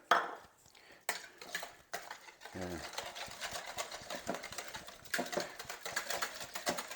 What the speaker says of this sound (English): we're going to whisk the eggs and the cottage cheese together